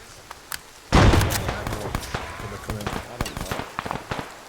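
Gunfire from an armed engagement to the east in a Chechnya-set military shooter game, a loud close shot followed by a rapid string of sharp cracks and footsteps, with voices talking over it.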